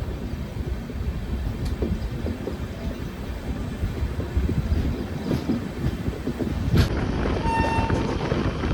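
The Guruvayur–Madurai Express with LHB coaches rolls slowly around a curve, a continuous low rumble of wheels and coaches with faint clatter and a brief higher squeal near the end.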